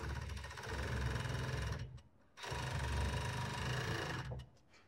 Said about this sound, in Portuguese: Vou costurar aqui, né, fechando ela aqui toda aqui na overlock.